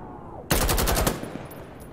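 A rapid burst of automatic gunfire from a weapon in the shooter game Insurgency Sandstorm, loud and close, lasts about half a second and then cuts off, leaving a faint echo in the quiet afterward.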